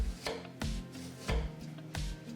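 Knife chopping an onion on a cutting board for a steak salad, four firm, evenly spaced thuds close by, with no talking.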